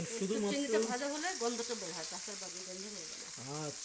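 Shrimp frying slowly in a pan with a little salt for a bottle gourd curry, a soft, constant sizzle heard beneath a person talking throughout.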